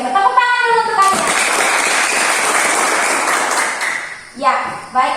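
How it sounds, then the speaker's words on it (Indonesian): A class of schoolchildren clap their hands together in a burst of applause lasting about three seconds, with an adult voice speaking before and after it. "Tepuk tangan dulu untuk kalian."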